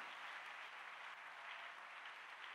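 A church congregation claps together in steady, dense applause that holds at an even level throughout, with no voices standing out.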